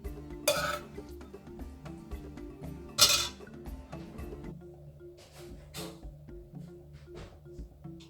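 Lamb stew served from a pot, with utensils clinking and scraping against the pot and dishes in sharp intermittent knocks, two louder clanks among softer taps, in a quiet kitchen.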